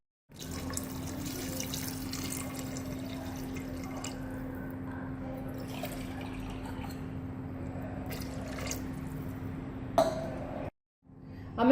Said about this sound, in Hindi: तो अब मैं 2 ग्लास पानी डालती हूँ।